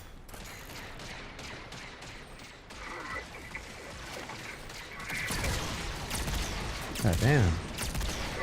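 Video game gunfire crackles in rapid bursts and clanks under a player's talk, growing louder and denser toward the end with a sharp blast near the close.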